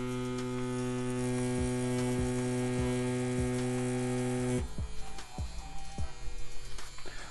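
A CNC P6 tattoo machine running at a turned-up speed, a steady electric buzzing hum with faint regular clicks, continuing alone before the tone shifts and is interrupted by louder taps and handling noise.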